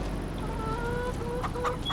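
Chickens in Farming Simulator 25 give a few soft, nearby clucks and a short run of warbling calls over steady farm ambience.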